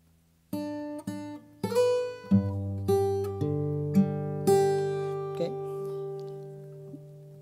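Plucked acoustic guitar notes ring out one after another, a slow picked pattern with low bass notes sustaining underneath, close and clear.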